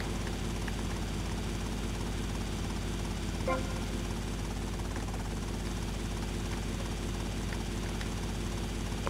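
A helicopter flies in GTA Vice City: The Definitive Edition during a chopper checkpoint run, a constant even rotor and engine drone holding steady with a brief chime partway through.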